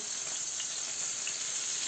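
Flour-coated fish seasoned with pepper and salt fries in a pan, a steady close hiss and crackle of hot oil with small pops, no talking.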